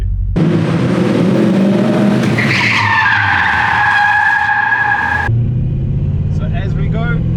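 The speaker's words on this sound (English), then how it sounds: "we accelerate a bit quicker, vigorous motion, handbrake up, hold the car in, and then we stop 180" Car drifting through a handbrake turn, with a loud, close tyre squeal and skid that rises into a sustained screech before the engine settles to a low idle hum.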